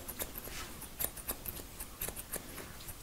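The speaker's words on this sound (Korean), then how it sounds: "그냥 지금 있을 때 그냥 틴닝 가위로 1cm 넣어주고요." Thinning scissors snip repeatedly through hair during an elderly man's short sango-style haircut, a rapid irregular series of crisp metallic clicks and shears over about three seconds, close and fairly quiet with no talk.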